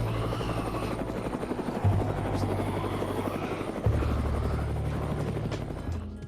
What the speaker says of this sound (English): you'll actually be able to hear a helicopter flying above you.